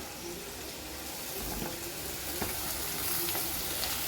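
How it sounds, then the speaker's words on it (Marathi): Coriander leaves with onion and green chilli sauté in hot oil tempering for poha, a steady close sizzle and frying hiss with a few soft stirring scrapes, no voices. "कोथंबीर पण छान फोडण्यामध्ये परतून"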